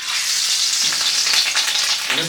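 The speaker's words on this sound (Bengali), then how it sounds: "তেল গরম হয়ে গেছে, এখন মাছের ডিমের বড়াগুলো ভেজে নিই" Fish roe fritters frying in hot oil, a loud, dense, steady sizzle and crackle close by, with a few soft bubbling bursts as the batter cooks.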